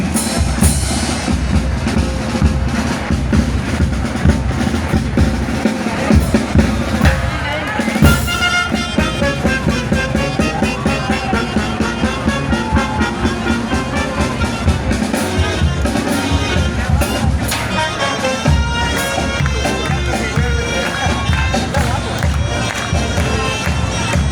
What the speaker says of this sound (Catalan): Aquest aplaudiment.